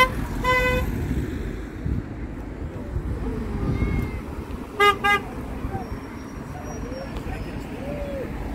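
Car horns honk in support of a yellow vests protest in France: one short honk early on, then a louder double blast midway, over steady road traffic noise, with people chatting nearby.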